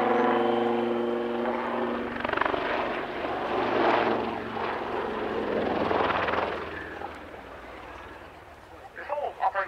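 An AgustaWestland AW159 Wildcat Navy helicopter at the RAF Cosford Air Show 2024 gives a loud, steady, droning roar with a tonal whine that holds throughout, while a voice talks over it.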